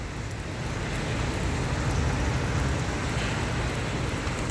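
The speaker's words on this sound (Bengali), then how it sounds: "প্রচন্ড বৃষ্টি আছে, প্রচন্ড বৃষ্টি আছে।" Heavy rain pours down in Saudi Arabia, a dense, steady roar of drops drumming on surfaces, loud and continuous with no voices.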